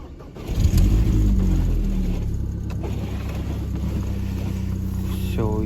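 A BMW E46 car engine cranks and catches, turning over into a loud, close idle that holds steady with a low rumble.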